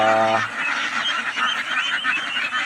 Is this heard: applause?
no